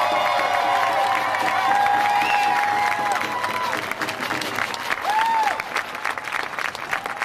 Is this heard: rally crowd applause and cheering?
yes